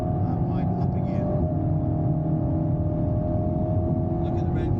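An Alpine A110S laps the Thruxton circuit, its engine droning steadily at a moderate pitch from inside the cabin under power, fairly faint and continuous beneath an instructor's coaching voice.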